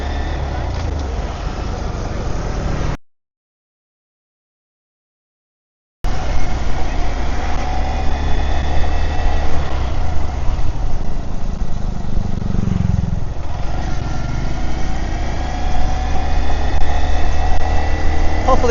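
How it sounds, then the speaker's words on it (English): A small motorcycle engine hums steadily while riding through traffic in Phuket, Thailand, a continuous close drone mixed with road and wind noise, with one short dropout of silence. "My trusty motorcycle has a nice zippy sound to it that I enjoy."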